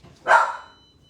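A single sharp dog bark, close and loud, rising fast and fading within about half a second, with no other sound around it.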